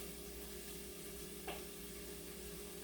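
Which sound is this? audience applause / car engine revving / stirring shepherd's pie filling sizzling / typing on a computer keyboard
stirring shepherd's pie filling sizzling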